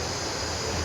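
Steady broadband rush of flowing water from a nearby stream behind an outdoor vlogger in a market area, continuous and even with no breaks or voices.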